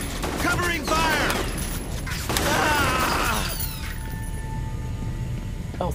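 Covering gunfire in the F.E.A.R. shooter game, rapid bursts of automatic weapon fire and impacts rattling over a busy mix of game sounds, with a voice speaking over the shooting.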